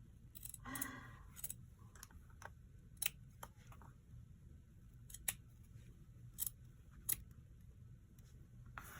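Scissors cutting paper for a junk journal, a quiet close series of crisp snips and clicks at irregular intervals over a faint room hush.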